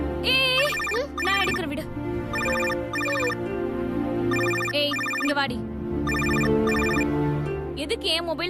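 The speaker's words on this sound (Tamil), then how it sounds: "இல்ல ரிங் ஆயிட்டே இருந்துச்சு" A mobile phone's electronic ringtone repeats in steady bursts over music in a Tamil TV serial scene, loud and continuous across the whole stretch.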